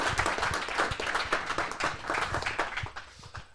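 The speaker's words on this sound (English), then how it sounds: "another round of applause for Matteo" An audience claps for a speaker at a security conference talk, a quick, irregular patter of many hands that carries on at a moderate level before tapering off at the end.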